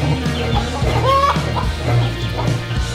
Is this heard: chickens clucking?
yes